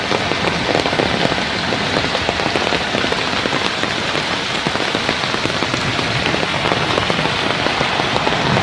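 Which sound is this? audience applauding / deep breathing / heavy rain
heavy rain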